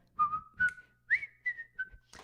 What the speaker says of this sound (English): I'm whistling to you.